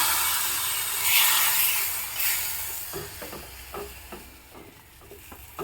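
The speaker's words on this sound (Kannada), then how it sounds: "ಒಂದು ಒಗ್ಗರಣೆ ಮೆಣಸು ಹಾಕಿಬಿಟ್ಟು ಒಗ್ಗರಣೆ ಹಾಕ್ತಾ ಇದ್ದೀನಿ" Mustard seeds, cumin, asafoetida and chilli tempering in hot coconut oil give a steady broadband sizzle that fades. Faint scraping stir clicks follow, close by, with no talking.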